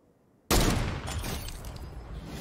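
Gunfire in the video game Fortnite erupts suddenly after brief near-silence, a loud close burst of shots with a booming low end and crackling tail that keeps rumbling afterward.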